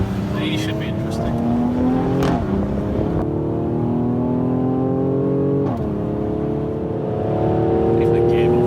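A Mercedes-AMG C63S accelerates hard from inside the cabin, its engine note climbing steadily and then dropping sharply at several quick gear changes before rising again, loud and close.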